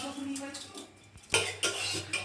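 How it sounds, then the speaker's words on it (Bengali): Fried rice and lentils being mixed in a pot for khichuri, a few close metallic clinks and scrapes of a spoon against the pot separated by brief pauses. "সব মিশিয়ে নেওয়া হয়েছে বন্ধুরা।"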